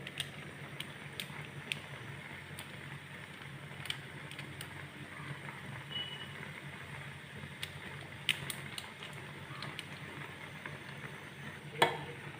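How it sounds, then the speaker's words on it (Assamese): Maggi noodles being stirred with masala in a boiling pot, a soft continuous bubbling and scraping texture with a few faint clinks, quiet and close, no talking. "এটো লাহে লাহে লৰাই থাকিম"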